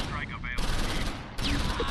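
Tank cannon and gunfire from a World War II battle in the Close Combat V strategy game, sounding as dense overlapping blasts and rattling bursts with sharp onsets near 0.6 and 1.4 seconds, heard under a faint voice.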